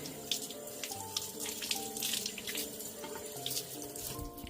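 Water runs steadily from a faucet, splashing as a doll's leg is wetted, a close, even stream with small drips and splatters throughout.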